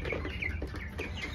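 Young chicks peep repeatedly in short high chirps while pecking at feed mixed with corn kernels, close and fairly soft.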